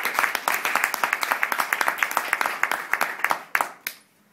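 Audience applause at a debate final: a steady patter of many hands clapping, fairly close and dense, continuing for several seconds before thinning to a few last claps and fading out.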